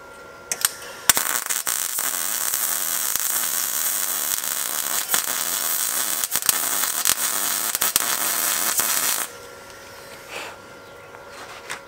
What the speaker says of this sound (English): So now that it's tacked in place, I can pull them out and I'm going to weld them up.